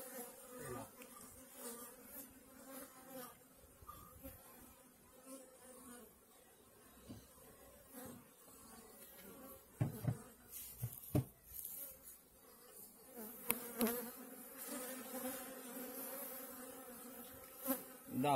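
Honeybees buzz continuously inside a barrel hive, a soft, close, droning hum with a few sharper clicks and bumps scattered through it.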